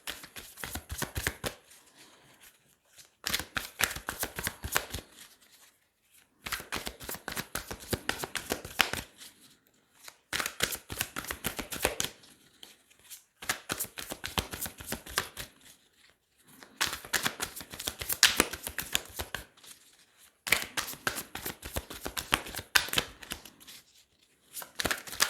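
Tarot cards being shuffled by hand in repeated bursts of rapid riffling and flicking, each lasting a couple of seconds and separated by short quiet pauses, close and crisp with no talking.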